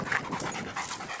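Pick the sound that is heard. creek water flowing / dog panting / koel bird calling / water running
dog panting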